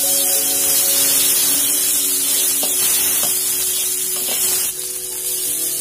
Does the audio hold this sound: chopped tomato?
yes